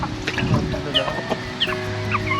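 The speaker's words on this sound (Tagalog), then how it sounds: "good morning sa mga manok na to" Chickens clucking and calling close by, with a rooster crowing, several short bursts over a steady outdoor background at a campsite, with no talking.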